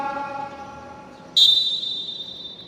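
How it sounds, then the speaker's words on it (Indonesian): A single sharp, high whistle blast during a physical education class exercise cuts in suddenly over a steady low hum and holds briefly before fading. "Bunyi peluit langsung lakukan kita."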